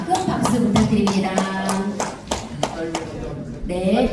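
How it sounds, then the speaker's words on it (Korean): Scattered clapping from a small audience in a National Assembly meeting room during a flower presentation at a peace forum, with sharp individual claps over a low hum of people talking. "큰 박수 부탁드립니다."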